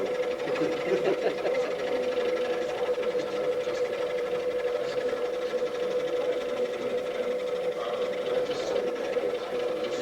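A scroll saw runs with a fast, steady buzzing hum and light mechanical chatter, moderately quiet and continuous with no speech over it.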